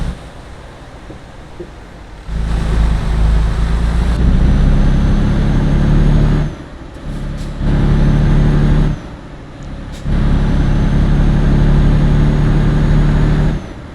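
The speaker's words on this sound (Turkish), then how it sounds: "Evet araba bir tık zorlanıyor gibi." In Euro Truck Simulator 2, a truck engine strains and drones loud and low in several sustained stretches, cutting back briefly between pushes. No one speaks over it.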